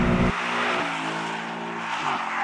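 A Ford Mustang's engine roars as the car slides with tires squealing, a loud, close, continuous howl that wavers as the slide is held, with no talking.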